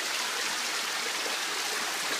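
A glacial river runs beneath an Alaskan glacier, a continuous broadband rush of flowing water that sounds steady and moderately loud, like a stream or falls, with no voices.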